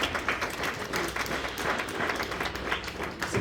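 A church congregation applauds during a worship service: dense, steady clapping from many hands fills the whole stretch without pause.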